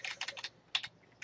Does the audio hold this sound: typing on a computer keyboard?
yes